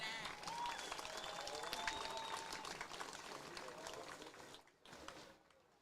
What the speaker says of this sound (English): please give a round of applause for our 2023 homecoming candidates